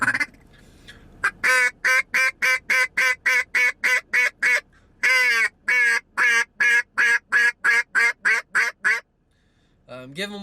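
A person blows a duck call to imitate ducks, sounding a fast run of loud, evenly spaced quacks in two bursts with a brief pause between them, close and clear with no talking over it.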